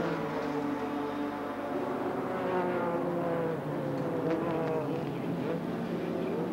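Racing cars at a 1990 AMSCAR series race, a continuous blend of engines roaring past at full power from a moderate distance, layered and droning without pause.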